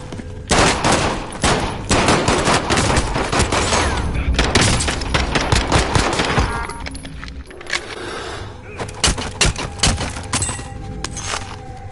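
Dense bursts of gunfire in Call of Duty: Warzone crackle rapidly and loudly for several seconds, then pause briefly before sharp shots resume, with metallic clatter mixed in.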